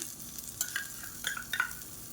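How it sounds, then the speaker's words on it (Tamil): Grated coconut is stirred and roasted in a hot pan, giving soft scraping and sizzling with a few brief spoon strokes over a quiet frying hiss. "இப்போ இதில் ஒரு 1/4 கப் அளவுக்கு துருவின தேங்காய் சேர்த்துக்கலாம்"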